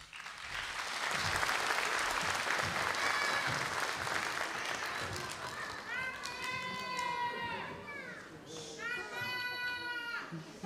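Applause from an audience at a children's ecology and peace festival builds into sustained clapping, then children's voices and cheers rise above it before it fades.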